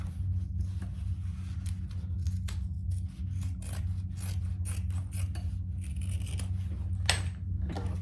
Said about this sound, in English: Using my zipper teeth scissors